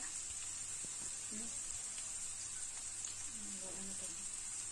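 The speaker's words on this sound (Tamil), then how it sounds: "வெங்காயத்தோட நிறம் மாறுற வரைக்கும் நம்ம அதை சிவக்க நல்லா வறுத்து விடலாங்க" Onions fry in a pan for a broccoli and mushroom stir-fry with a thin, steady sizzling hiss, faint and close, while a soft voice talks in the background.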